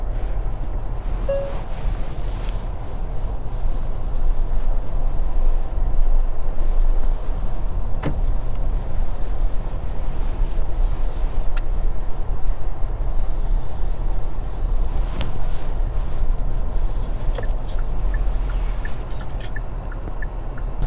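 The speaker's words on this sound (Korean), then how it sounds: "지금 현대 팰리세이드 가솔린 타고 있고요" Inside a Hyundai Palisade 3.8L gasoline SUV at night, a steady low road and engine rumble with faint wind hiss continues evenly throughout, with occasional soft clicks and no talking.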